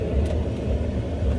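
Steady low road rumble and engine drone heard from inside a moving truck, a continuous muffled hum with no breaks.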